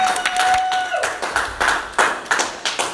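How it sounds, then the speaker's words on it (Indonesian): A theatre audience breaks into applause for a make-up artist guest, starting with a dense burst of clapping and then thinning into scattered, spaced-out claps, loud and close. "Juyes Dardo, tepuk tangan dong"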